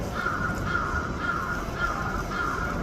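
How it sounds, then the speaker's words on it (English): Crows in Japan give a run of hoarse, rasping caws, repeating in a loose rhythm at moderate distance over soft outdoor background noise. "the crows in Japan all sound like old Japanese men getting back shots"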